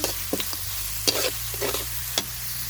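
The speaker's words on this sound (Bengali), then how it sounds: "পেঁয়াজটা ভালো করে ভেজে নিই" Chopped onions fry in a blackened wok over a clay village stove; a continuous hiss of oil is broken by several sharp scrapes and knocks of the spatula as the onions are stirred, close and alone.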